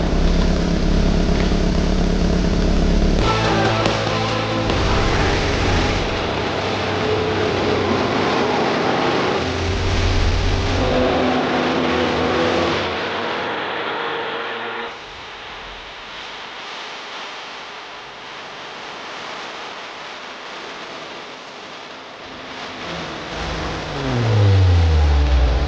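The engine of a 1980s Bombardier snow cat roars and revs while the machine drives in circles on snow, loud and close, with pitch swings, a quieter stretch mid-way and a rising rev at the end.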